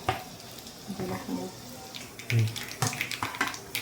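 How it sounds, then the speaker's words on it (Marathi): Garlic frying in oil in a pan for a dal khichdi tadka, a steady close sizzle running through the clip with some pan and kitchen clatter. "हे लसूण छान फ्राय होऊ द्यायचे"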